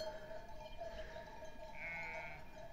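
A sheep on a shepherd's route bleats once, fairly faint and a little distant, over a low steady background hum.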